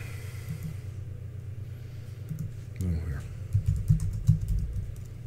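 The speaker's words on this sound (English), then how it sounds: "You're typing." Keys clatter on a computer keyboard in irregular bursts beneath a steady low hum, with voices talking over it during a casual conversation.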